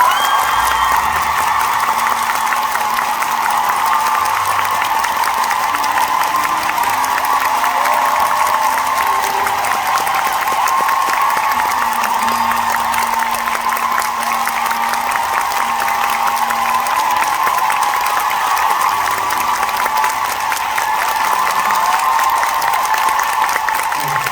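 A concert hall audience at a show applauds loudly and continuously, a dense crowd of clapping with a few scattered cheers, sustained at full volume throughout without letting up.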